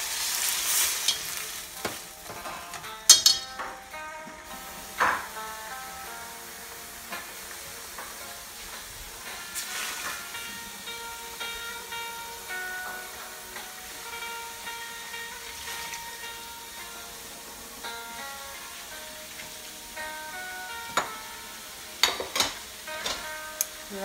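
Water hits frying onions in a pot for a vinegar fish hotpot, bringing a steady hiss and sizzle with scattered clinks and stirring knocks throughout.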